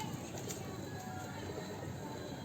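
Low, soft pigeon cooing murmurs steadily through a constant background hum, with no clear pauses, fairly close but not loud.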